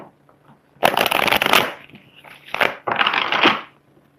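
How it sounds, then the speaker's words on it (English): Tarot cards riffled and shuffled in two loud bursts of papery crackling, with a softer card handling sound between them and quiet moments at the start and end. "Let's go ahead and pull another card."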